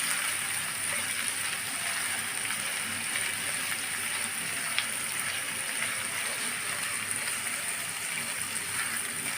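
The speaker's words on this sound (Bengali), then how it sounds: "পেঁয়াজগুলো আমি একটু লাল লাল করে ভেজে নিচ্ছি" Onions fry in a pan for chicken khichuri, giving a soft, even sizzle that runs steadily and fairly quietly with no talking.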